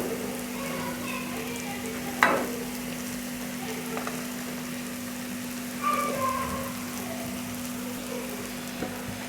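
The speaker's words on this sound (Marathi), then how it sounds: "आता याच्यामध्ये आपण भेंडी टाकून घेऊ." Okra (bhindi) frying in a pan on low heat with turmeric, a soft, steady sizzle like light rain, with a few scattered clicks and stirring knocks, close by and without any talking.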